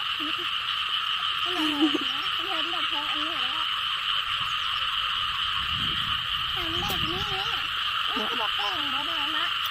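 Frogs croak in repeated pulsing bursts over a steady insect-like drone in rice fields on a morning after overnight rain, with a voice speaking faintly in the background.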